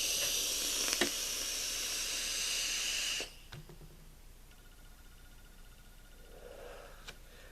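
A steady breathy hiss of vapor being drawn through a Sigelei Elite Tank 2 on an e-cigarette, loud and close for about three seconds, then fading into quiet room tone with a few faint clicks.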